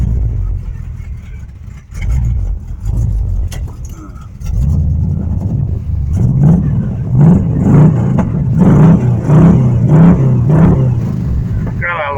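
An Omega car that was recently wrecked runs with its engine idling and then revving in a rising, pulsing drone, heard close while people talk over it.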